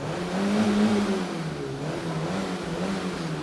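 An old car's engine runs steadily at close range, a low revving hum that swells slightly and then settles into an even idle-like drone, with no voices over it.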